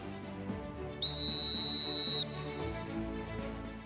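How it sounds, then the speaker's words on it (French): A single sustained, shrill whistle blast at night as a wake-up call at a civic service centre, lasting over a second, loud and piercing above a steady background hum. "un coup de sifflet vient briser le silence de la nuit"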